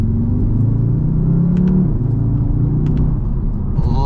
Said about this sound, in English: we'll give it one last acceleration. Put it in manual mode and see how the paddle shifters react